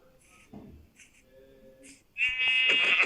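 Two short, bright bleats from a Minecraft sheep, separated by brief quiet, followed by a louder, sustained burst of game sound; a voice is faint early on.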